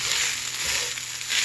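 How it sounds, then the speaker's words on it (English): Rice poured into a pan of hot sausage gives a broad, steady sizzling hiss that holds at an even level, close by and with no talk. "I'm going to pour in the rice, but I need both hands for that"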